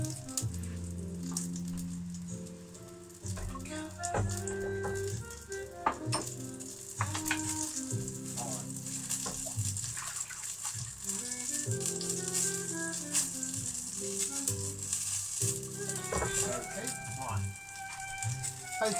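Onions frying in a pan give a steady, bright crackling sizzle with scattered pops, running the whole time beneath clinking and faint background music.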